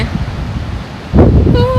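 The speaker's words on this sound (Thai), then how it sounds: "ลมแรงมากลมเย็นมาก" Strong, cold wind at Butterfly Beach in Santa Barbara rushes across the microphone in steady gusts, with a louder blast near the end and a voice briefly audible.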